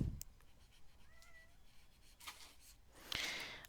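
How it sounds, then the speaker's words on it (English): A pet cat, Boo, meows for attention indoors, a couple of short, fairly faint calls with a louder, brighter cry near the end over quiet room noise. "I have a kitty cat demanding attention"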